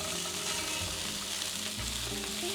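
Salmon fillet skin-side down crackles and sizzles steadily in a pan of melted butter, a close, continuous frying hiss with occasional spatters and no talking.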